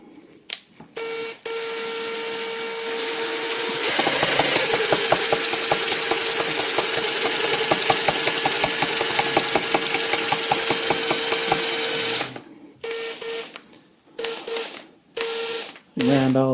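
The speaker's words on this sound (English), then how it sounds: "Now chuck it up in my drill." A handheld power drill runs steadily for several seconds, grinding burrs out of an aluminium part on a Bobcat 709 backhoe attachment, with brief bursts of whirring before and after the sustained grind.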